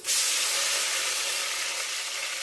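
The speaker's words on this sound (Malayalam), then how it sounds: "എണ്ണ നല്ല ചൂടായിട്ടുണ്ട്. തക്കാളി ഇട്ട് കൊടുക്കാം." Chopped tomatoes hit very hot oil for a fish curry, setting off a loud, steady sizzle that starts abruptly and holds as a dense, bright hiss for the whole stretch, close up and with no voices.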